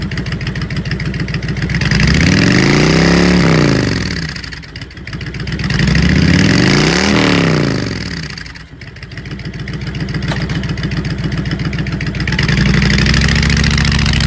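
A used 2005 Honda VTX1300S V-twin heavyweight cruiser motorcycle engine revs up and falls back twice from a loud idle, close and continuous, with no voices.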